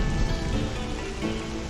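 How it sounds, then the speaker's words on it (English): Steady rain falling on a Lego soccer pitch, a dense continuous hiss of drops close by and fairly loud, with no talk over it. "Rainy."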